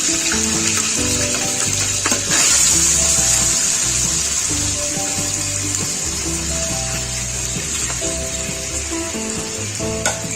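Liquid for sweet mutanjan rice, with boiled rice and sugar added, bubbles and sizzles in a large pot, a close, steady simmering hiss with occasional stirring scrapes and no voices.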